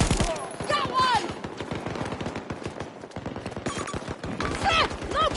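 Rapid automatic gunfire from Battlefield 2042, dense bursts of close shots crackling back to back for several seconds with a short lull midway, voices talking underneath the shooting.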